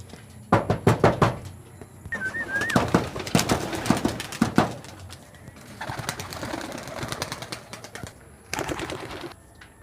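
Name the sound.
pigeons cooing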